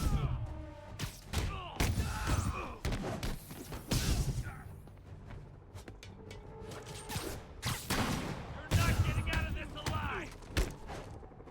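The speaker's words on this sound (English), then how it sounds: "Dude, why so many snipers?" Sniper gunfire in the Spider-Man video game: repeated sharp cracks and thuds scattered over the stretch, mixed with crashes and impacts, loud and close, with a voice talking over parts of it.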